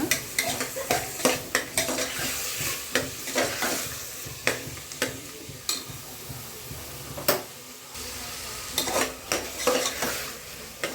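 Chunky vegetables for hotel-style pulao fry in a pan, a steady sizzle running throughout while a utensil scrapes and clatters against the pan in repeated stirring strokes, close and fairly loud, with no talking.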